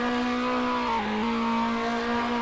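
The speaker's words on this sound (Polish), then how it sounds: "Dobrze, teraz tutaj od zera, albo tutaj na drodze startuję." Ford Escort engine in the Polish Car Driving video game, a steady loud drone that dips briefly in pitch as if shifting, then holds on, with no talk over it.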